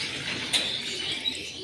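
Racing pigeons drink at their loft after returning from a training toss, with a brief soft bird call rising over a steady hiss of background noise.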